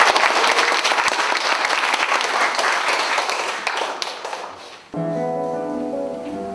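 Loud, dense applause from an audience in a Korean art song memorial hall, sustained for about five seconds before stopping abruptly, followed by a steady sustained tone.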